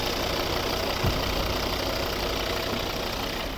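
A 2011 Volvo S40 2.0 D3 diesel engine idles steadily with a low, even rumble and a faint knocking texture, close by and continuous throughout.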